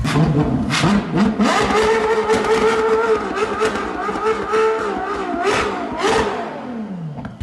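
A Ferrari 4-litre twin-turbo V8 hybrid engine revs and accelerates loudly, its pitch climbing and shifting through several sharp rises, close by with no talking.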